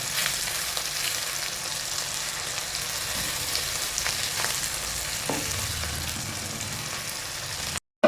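Dry fish frying in oil in a pan for aviyal, a steady close sizzle and crackle that runs unbroken for several seconds, then cuts off abruptly.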